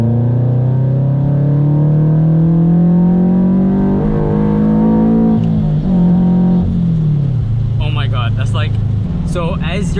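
A supercharged Subaru BRZ pulls hard in third gear, its engine note rising steadily and loudly into a sustained whine before easing off, with a voice speaking over the last few seconds.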